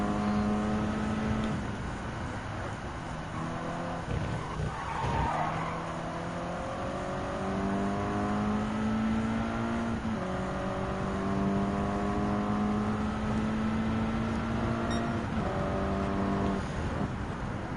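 Race car engine in Gran Turismo 7 during an out lap in a Toyota Gazoo Racing GT Cup round, droning steadily throughout with repeated rising gear-change sweeps and brief tire squeal, loud and continuous with no talk.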